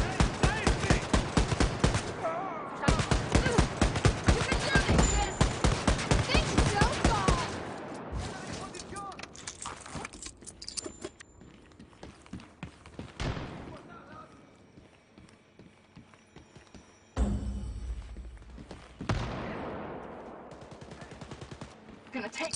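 Heavy rapid-fire gunfire from big guns in Wolfenstein: Youngblood, a loud, fast rattling burst that fades into quieter combat noise before short renewed bursts near the end.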